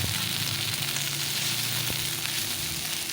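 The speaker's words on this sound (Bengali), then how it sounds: "ছোটো ছোটো গুঁড়ো আলুগুলোও দিয়ে দিলাম" Small diced potatoes fry in a wok with onion, chilli and garlic paste, giving a loud continuous sizzle with faint stirring scrapes and no talking.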